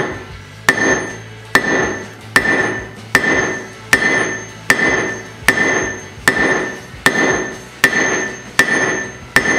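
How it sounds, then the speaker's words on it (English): A 10-pound hammer strikes a stainless steel bar in steady, evenly spaced heavy blows, about a dozen loud ringing metallic hits close up with no talking. "I'm gonna switch up to my 10-pound hammer just to give it a little bit more oomph."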